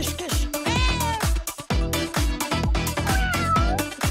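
Cat meows, drawn out and rising and falling twice, carry over steady, rhythmic music with a strong beat in a kids' craft setting.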